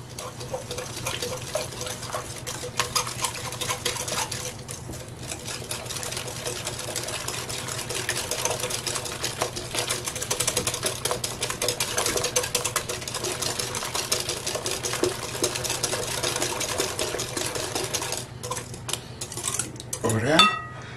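Steady scraping and clinking of a utensil stirring a mixture in a bowl with a pinch of salt added, continuous and close for the whole stretch, with a louder knock near the end.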